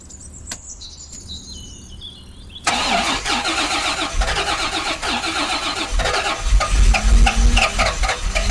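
A Rolls Royce Silver Spirit engine cranks and catches after a quiet pause with birdsong, then settles into a loud, steady idle that swells and rumbles more heavily toward the end.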